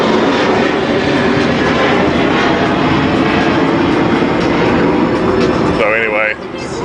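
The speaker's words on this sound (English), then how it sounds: "we got a plane flying over" A loud, broad roar of an airplane passing overhead fills the whole clip, steady and close, with a voice faintly under it near the end.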